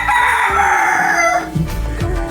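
A rooster crows loudly and close by, one long drawn-out call, with a few low clucks afterward.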